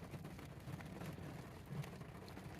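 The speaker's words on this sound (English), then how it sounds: "got back in my van, and it started to rain." Rain falling on a camper van parked in Greer, Arizona, a steady, faint patter of drops on the roof with no voices.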